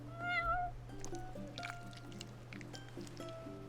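A cat in the video game Final Fantasy XV, hanging around a shop, gives a short high meow, followed by soft wet squishing and dripping eating sounds over a constant low hum, quiet and close.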